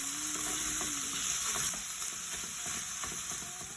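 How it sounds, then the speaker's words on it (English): Chicken pieces stir frying in a frying pan for shawarma, a steady close sizzle with scraping and stirring clicks throughout, no voices. "you're going to stir fry this until it turns golden brown"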